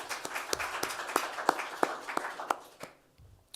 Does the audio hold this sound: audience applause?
yes